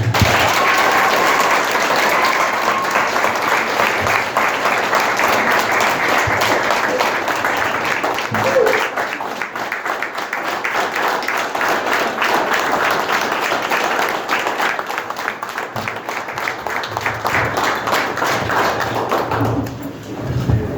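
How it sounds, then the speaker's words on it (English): Audience applause at an MRA dinner for Honor Flight volunteers; a large crowd claps loudly and steadily for about twenty seconds, with occasional thumps and a brief lull near the end. "So I'd like to have big rounds of applause for these guys."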